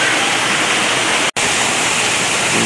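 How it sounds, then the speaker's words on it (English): Steady roar of a waterfall in a zoo exhibit, a loud, continuous rushing wash of water with a brief dropout in the middle. "This is the waterfall we heard"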